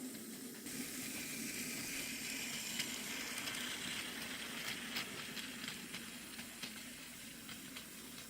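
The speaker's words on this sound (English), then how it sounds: "here comes Railway Series Thomas's run." A Plarail Railway Series Thomas toy train, an 80th anniversary model, runs along its plastic track with a steady whirring motor hum and a faint clicking rattle, continuous and close.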